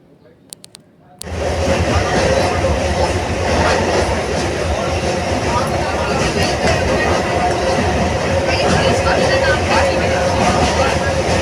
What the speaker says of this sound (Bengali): আমাদের ট্রেন নৈহাটি যাবার তো এখনই হয়তো চলে আসবে